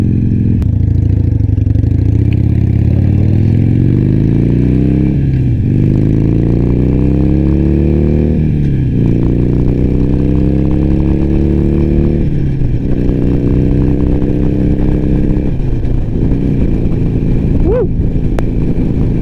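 A Harley-Davidson motorcycle rides along a Florida beach road in Stuart, its loud engine droning close up and rising through repeated gear shifts, with wind rushing throughout.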